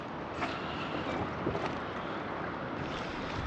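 A sailboat glides under genoa alone with the engine off, leaving a Guadeloupe anchorage near Rivière Sens: a steady, close wash of wind and water rush with faint creaks, continuous and unbroken, and no speech.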